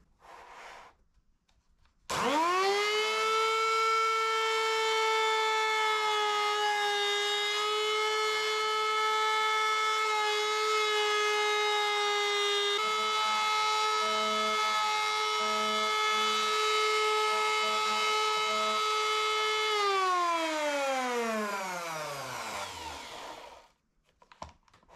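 A wood router with a 28mm cutter depth trims workpiece edges, spinning up to a loud, steady high whine that holds for about eighteen seconds, its pitch dipping slightly under load before winding down to silence.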